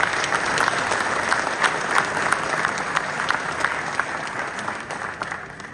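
An audience at a forum applauds steadily, a dense, even wash of clapping that holds at a fairly constant level from start to finish.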